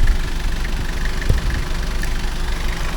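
A vehicle engine idles steadily close by, a loud continuous rumble with a faint knocking pulse and one brief thump partway through. No one speaks.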